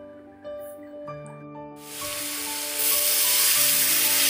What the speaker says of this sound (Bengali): আর এখন যে কড়াইতে রান্না হচ্ছে